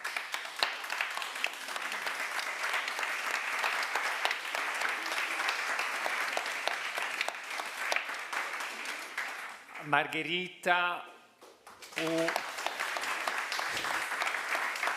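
A conference audience applauds for team members, a long steady round of clapping that briefly gives way to a speaker's voice before the clapping resumes.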